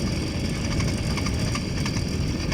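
A motorized bicycle engine idling during a winter cross-country ride, a steady, fairly loud rumbling drone held evenly throughout with no talking.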